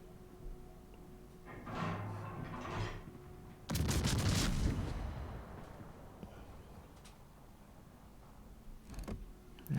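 Warship main guns fire in World of Warships, targeting a Scharnhorst: a heavy burst of booming salvos in the middle, with smaller shots and rumbles before and after.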